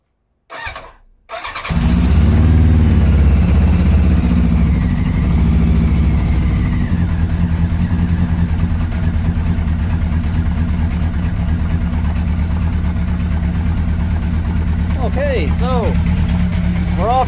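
A Honda CBR 750 Hurricane motorcycle, under revival in a shed with the door open, cranks briefly, catches on the second try, then idles loudly and steadily up close for over fifteen seconds.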